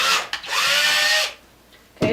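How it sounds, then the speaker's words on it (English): Power drill boring through a plastic hoop tube, loud whirring bursts: a short one, a long sustained run with pitch sliding as the bit cuts, a pause, then a new burst starting. "Make sure my drill is going the right way."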